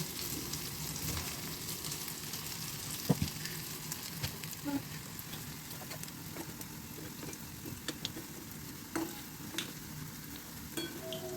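Moong dal vadas (bade) fry in oil with a steady, soft sizzle and crackle, punctuated by occasional clicks and taps of a spoon near the pan; no one speaks.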